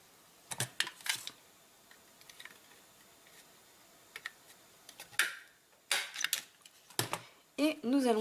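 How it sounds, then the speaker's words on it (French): Stapler pressing a staple through ribbon onto paper during a craft workshop making a photo box, short sharp clicks and snaps scattered across a quiet room, with brief speech between them. "on va simplement ajouter une agrafe pour faire tenir notre morceau de ruban"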